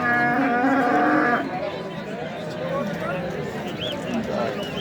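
A cow lows loudly at close range for about a second at a livestock market in Sariosiyo, Uzbekistan, then a busy crowd murmurs with shuffling and faint animal calls in the background.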